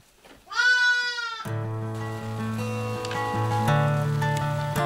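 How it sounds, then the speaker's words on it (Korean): Sheep and goats of a herd of over 300 moving across the Siberian plains in late winter, one loud rising bleat up close followed by overlapping bleats and calls from many animals, continuous and near. "양과 염소떼가 방향을 맞춰 어디론가 이동합니다."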